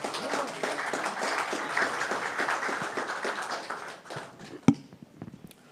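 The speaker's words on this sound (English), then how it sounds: "maybe a round of applause for all these guys that have come out to help us tonight" Applause from a small audience for the panel at an evening pitch event, steady dense clapping that tapers off over several seconds, with a sharp tap near the end.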